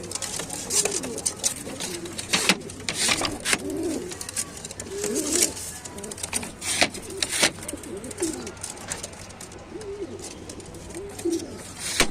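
Racing homing pigeons coo in soft, repeated low phrases among other bird sounds, with a few sharp clicks and some faint background noise, nearby.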